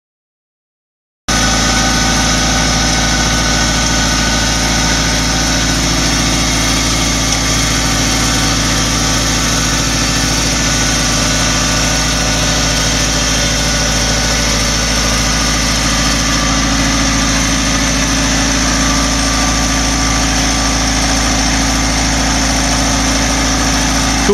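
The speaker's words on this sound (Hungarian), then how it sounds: "Uber traktor, Ferri TA320-as hidraulikus gémezúzóval." Tuber tractor fitted with a Ferri TA320 hydraulic boom mulcher idles at close range, a loud, steady mechanical drone with constant vibration that starts abruptly after a brief silence and holds unchanged to the end.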